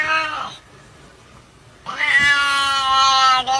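A cat lets out two drawn-out, wailing meows close by, separated by a short quiet pause, the second one longer and louder.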